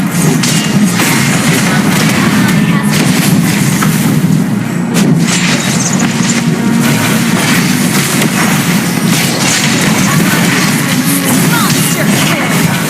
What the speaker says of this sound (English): Lava burst!